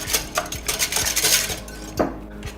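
Milk and buttermilk being mixed together in a bowl, a utensil clinking and scraping against the sides in quick repeated strokes, close and fairly loud with no talking.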